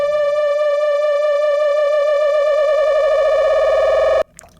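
Dry modular synth line without effects, a single bright buzzy tone rich in overtones held steadily with a slight wobbling pitch, loud and alone, then cut off abruptly near the end.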